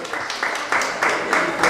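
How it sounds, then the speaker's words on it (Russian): An audience at a party clapping together in a quick, rhythmic pattern of regular bursts, close and fairly loud. "давайте поаплодируем"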